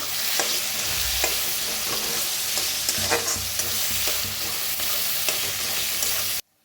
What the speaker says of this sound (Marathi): तर कांदा लसणाची फोडणी छान अशी भाजलेली आहे।